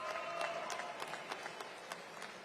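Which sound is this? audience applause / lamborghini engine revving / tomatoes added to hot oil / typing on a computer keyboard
audience applause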